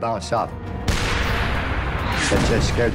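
Tank gunfire and ricocheting armor-piercing shells at under 100 metres in wartime Italy, a Panther in the fight: a loud, sustained roar of gunfire and blasts, with a sharp onset about a second in, layered over voices.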